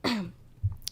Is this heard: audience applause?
no